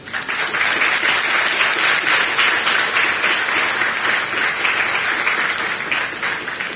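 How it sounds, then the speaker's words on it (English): A convocation audience gives a sustained round of applause, dense and steady throughout, loud and unbroken, with no voices over it. "please give a round of applause to your parents, your siblings, and everyone who supported you"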